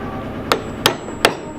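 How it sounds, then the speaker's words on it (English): Three sharp, evenly spaced strikes on a chisel cutting red oak, most likely a hammer or mallet blow driving the sharp blade into the wood, close and loud against a steady background hum. "you want a sharp chisel to"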